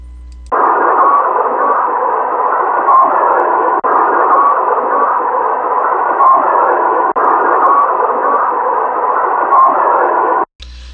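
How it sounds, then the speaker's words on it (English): Steady hissing radio interference on a Dallas police radio recording from Dealey Plaza, a loud unbroken band of static holding for about ten seconds with two brief dropouts, then cutting off abruptly. "this radio interference is being created in an attempt to prevent the communications in Dealey Plaza"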